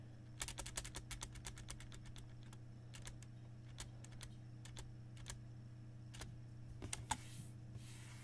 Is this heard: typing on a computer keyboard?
yes